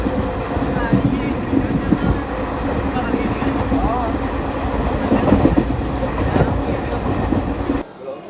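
A train rumbles in at a station on the way to Bangalore, a continuous heavy rolling clatter with faint squeals, loud and close, with voices in the background.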